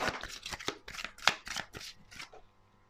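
A deck of tarot cards is shuffled by hand in a rapid, riffling series of crisp card flutters, close and clear, trailing off into quiet after about two seconds with no voices.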